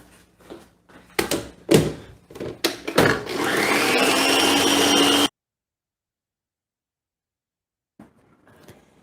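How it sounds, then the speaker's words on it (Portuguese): A stand mixer beating Swiss meringue starts with a few clunks and knocks, then its motor whirs up to a steady, loud whine for a couple of seconds before cutting off abruptly, leaving near silence and a faint clatter. "Eu levo imediatamente na batedeira."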